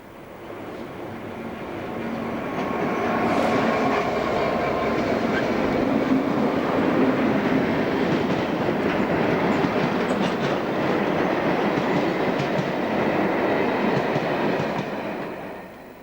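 A Class 66 and a Class 60 locomotive haul the Longport to Bescot Enterprise freight past, a loud sustained rumble with rhythmic wagon clatter that swells in and holds for the full length before easing slightly at the end.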